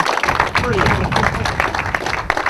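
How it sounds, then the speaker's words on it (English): Applause for a third-place podium finisher at a TW Steel DMAX 2015 enduro championship round: steady clapping from a crowd throughout, mixed with cheering and talk close by. "And the biggest round of applause for beating the other two onto the podium"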